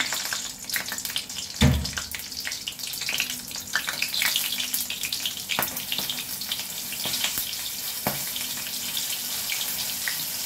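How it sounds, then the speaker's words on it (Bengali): Two chillies drop into hot oil and sizzle in a pan for a Bengali drumstick-leaf lentil dish, a sharp thump followed by a steady crackling hiss with occasional pops. "তেলটা গরম হয়ে গেছে, এবারে এতে দুটো লঙ্কা দিলাম।"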